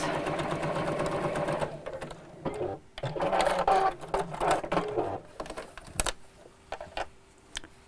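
A sewing machine stitches a test piece for a gift bag, whirring up close in uneven runs that stop and start, then falls quiet near the end.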